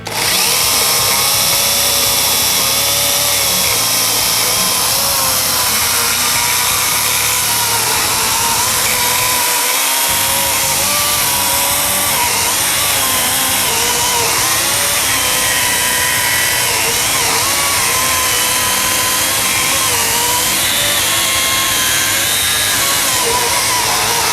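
A Worcraft CHS-S20LiB cordless mini chainsaw whines continuously at high pitch while cutting through a wooden log, loud and close, with one brief pause in the buzzing.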